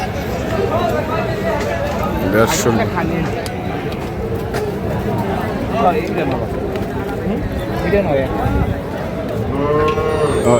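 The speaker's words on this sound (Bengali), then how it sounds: "গরু আছে" Cattle and bulls lowing repeatedly at the Ambari haat livestock market, the moos rising over a dense crowd babble of voices and people talking close by.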